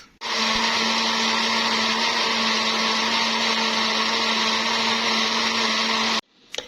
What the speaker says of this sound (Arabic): نضرب المكونات كلها كده في الخلاط.